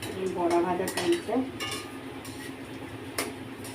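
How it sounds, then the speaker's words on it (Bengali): Red lentil fritters (musur dal bora) fry in hot oil with a steady close hiss, while metal utensils clink and scrape against the pan now and then. "বড়া ভাজা চলছে।"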